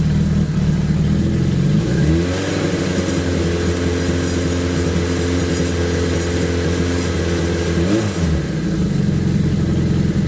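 A Suzuki GS1000 motorcycle engine runs steadily near idle during a carburetor sync, with a loud, even mid-range drone and two short revs that rise and fall.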